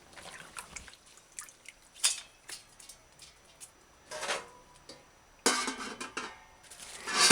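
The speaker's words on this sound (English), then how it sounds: "And then put it in the pot." Fresh comfrey leaves go into a cooking pot with water, making scattered clinks of the pot, soft wet splashes and drips in irregular bursts, close and fairly quiet.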